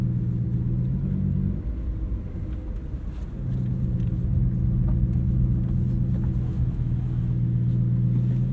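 A 2023 Lamborghini Huracan Tecnica engine drones steadily from inside the cabin, dipping briefly, then swelling into a sustained low, loud rumble as the car pulls away.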